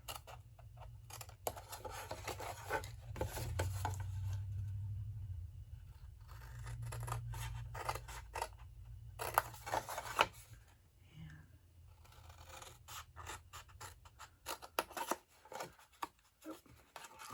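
Scissors cut through a large paper bag in a paper-craft project, giving a run of close, crisp snips and rustles, with some quiet handling noise between cuts.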